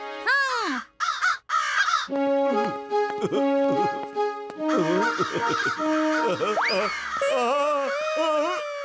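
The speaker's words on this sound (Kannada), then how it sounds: "ಅಯ್ಯೋ ಮತ್ತೆ ಬಂದ್ಬಿಟ್ವಲ್ಲಪ್ಪ ಕಾಗೆಗಳು" Cartoon crows caw repeatedly in loud, squawking bursts from an animated Motu Patlu episode, overlapping one another with comic sound effects and no pause for several seconds.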